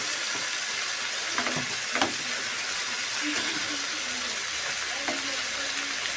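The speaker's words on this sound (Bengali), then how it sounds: "এটাকে আমি মশলার সঙ্গে একটু কষিয়ে নেব" Cauliflower cooking with spices in a pan: a steady, loud sizzling hiss with occasional light stirring clicks and soft knocks, close up and continuous, with no one talking.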